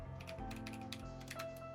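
Quick bursts of computer-keyboard key clicks as a cheat command is typed in The Sims 2, light uneven taps close to the microphone over a soft tonal background.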